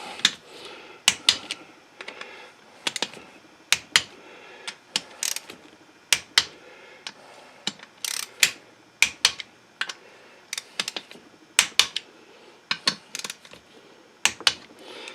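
Ratchet wrench torquing Allen cap screws on a Kohler Command Pro V engine, giving a long run of close, sharp clicking ratchet strokes in irregular bursts with brief pauses between them.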